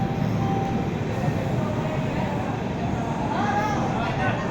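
The 12718 Vijayawada–Visakhapatnam Ratnachal SF Express, running with new LHB coaches built in 2025, passes as a dense, continuous rumble of rolling wagons. A faint squeal rises toward the end, with background chatter.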